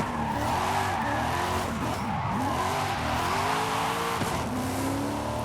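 A car drifts with sustained tire squeal through a big roundabout in Forza Horizon 5, set in Mexico. The engine drones steadily under wavering squeal tones that rise and dip, loud and continuous, with no talk.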